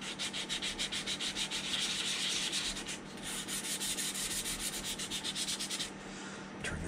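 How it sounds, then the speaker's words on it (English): Steady back-and-forth sanding of putty on a plastic model hull, close and rhythmic, with quick rasping strokes that briefly pause before resuming. "I'm sanding right up to that little line that's on there."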